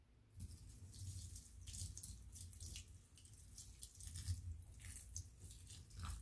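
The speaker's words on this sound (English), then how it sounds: "Now we're going to water them deeply with filtered water." Filtered water poured deeply onto potted plants being treated for thrips, giving a steady splashing, trickling wash that runs almost the whole time, close by and fairly quiet.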